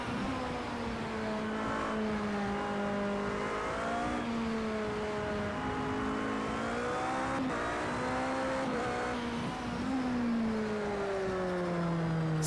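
A race car in the Project CARS 2 video game laps the wet Spa circuit, its engine droning and rising and falling through gear changes, with a brief tire squeal amid the steady close roar.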